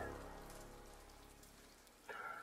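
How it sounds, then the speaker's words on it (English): Steady rain falling on surfaces in the video game Ender Lilies, a continuous soft hiss of drops that holds throughout and swells slightly near the end, with no talking. "But then the rain began to fall."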